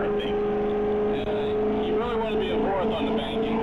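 Race car engine at steady high revs on a banked track, a loud continuous droning roar with slight pitch shifts as it drives, a driver's voice briefly audible over it.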